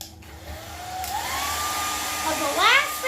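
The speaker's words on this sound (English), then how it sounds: "you're going to take your handy dandy hairdryer and dry off" A handheld hair dryer blows steadily at close range while drying acrylic paint on a canvas, its whine rising in pitch and wavering near the end as the airflow shifts.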